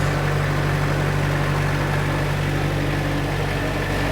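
Engine of a self-generating nitrogen servicing cart warming up at a steady 1500 RPM, a loud, continuous close-up drone with a low hum and no break in level.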